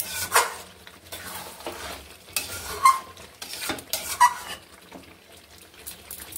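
A pot lid is lifted and replaced and utensils scrape and clink while mutton masala cooks, several sharp separate knocks over a low sizzling background, with no voices.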